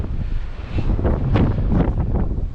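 Wind blows across the River Spey at Arndilly in Scotland in February, a steady, close rushing buffet over the microphone with gusty swells and no voices.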